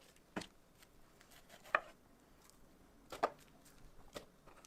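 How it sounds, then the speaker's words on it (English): A knife coarsely chops apples and pineapple on a cutting board in a kitchen, with about five sharp, spaced thuds rising above a quiet background. "Just give them a nice coarse chop and place them into your blender."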